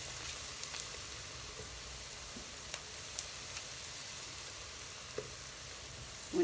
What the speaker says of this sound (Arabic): هنحط المرقة بتاعتنا